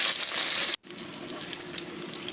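Lotus stem slices (nadru) frying in a small amount of oil while being slowly stirred, a steady close sizzle with a brief break partway through.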